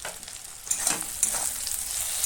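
Chopped tomato stirred into a frying bhetki fish-bone chachchori, with a steady close sizzle and a few scraping stirs of a spoon through the pan, no voices.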